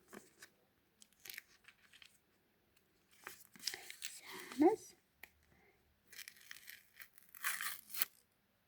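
Paper being torn and crinkled in close, scattered bursts, with a brief quiet spoken word in between.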